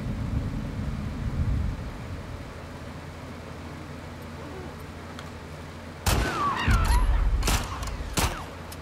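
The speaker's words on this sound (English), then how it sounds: "quit shooting. Don't waste your ammo." Gunfire in The Last of Us Part II: after a quiet, rumbling stretch, a few sharp shots crack out close together near the end, loud against the low background.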